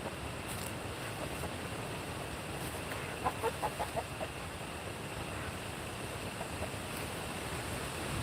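A rooster on a farm with goats and chickens crows in a short burst of pulsed calls midway through, moderately near, over steady wind and surf-like outdoor noise.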